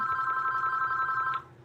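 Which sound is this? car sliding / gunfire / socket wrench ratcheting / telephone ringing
telephone ringing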